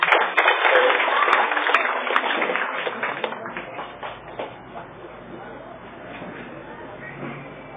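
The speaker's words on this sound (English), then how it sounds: "So can you please give him a round of applause?" Applause for Mayor Jonas Cortez at a welcome event, loud at first and then thinning into scattered claps and shuffling over several seconds, with a faint voice underneath.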